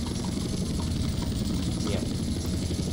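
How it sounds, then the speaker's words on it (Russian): Helicopter in the DayZ video game, a constant close rotor and engine roar with a steady thumping texture, loud and unbroken, with a voice talking over it. "Я такой вертолет никогда не видел."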